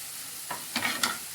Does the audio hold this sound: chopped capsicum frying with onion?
yes